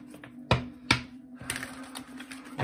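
A deck of tarot cards is shuffled by hand: a couple of sharp slaps followed by soft riffling and flicking of cards, close and quiet with no talk.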